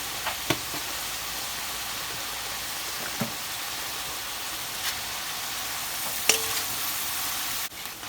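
Palabok ingredients sautéing in a pan with a steady, close sizzle throughout, broken by a few soft clinks and scrapes of stirring.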